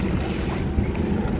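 A speedboat runs across open water at a Disney World resort, a steady broad engine and water roar mixed with wind buffeting on the microphone, continuous and close throughout.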